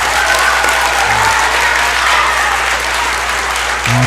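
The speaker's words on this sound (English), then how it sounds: "Let's give them a big round of applause." Loud, steady applause from a crowded audience at a 5th grade graduation ceremony, a continuous wash of clapping lasting the whole stretch without a break.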